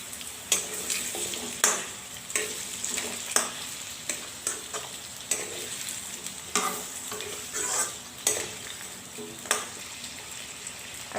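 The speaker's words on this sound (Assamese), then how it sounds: "এইখিনি অলপমান সময় ভাজি লম।" Pumpkin and potatoes fry in a pan for Assamese-style khichdi, a steady close sizzle broken by regular scraping stirs about once every second or two.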